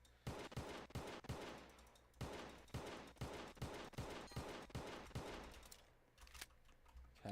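Shots from a video game weapon with a slight firing delay ring out in quick, regular bursts of repeated reports. The bursts are fairly faint overall and pause briefly before resuming.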